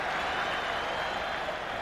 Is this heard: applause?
yes